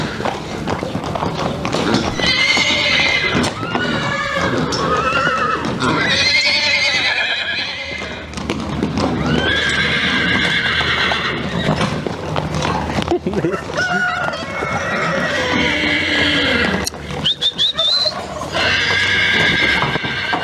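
At an animal market, ponies neigh and whinny in loud repeated calls over a busy bed of clip-clopping hooves, with crowd chatter, voices and other livestock noises mixed in throughout.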